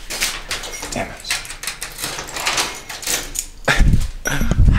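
A locked door is rattled and yanked repeatedly, giving a series of close, loud clunks and scrapes that build into heavier thuds toward the end.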